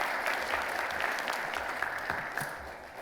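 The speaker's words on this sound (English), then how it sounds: "Let's give them a round of applause, please." An audience applauds a food services team at an MLK Day service event, steady clapping filling the room for about three seconds and tapering slightly at the end.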